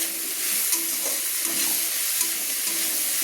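Onions and tomatoes fry lightly in plenty of oil, giving a steady, close sizzling hiss. Soft stirring scrapes surface briefly, and no one speaks.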